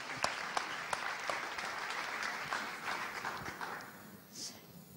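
An audience at an Italian testimonial meeting applauds steadily and loudly, with dense, continuous clapping that holds for the full stretch before easing slightly near the end.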